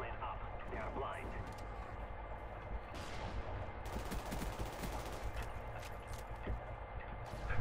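Steady, moderately loud gunfire from the video game Black Ops, with rapid shots and bursts layered over game noise, while a voice talks over it.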